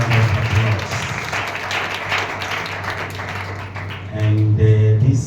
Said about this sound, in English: Let's just appreciate our pastor.